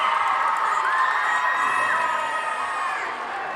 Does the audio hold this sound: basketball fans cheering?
yes